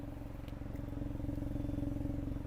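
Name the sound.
small three-cylinder car exhaust note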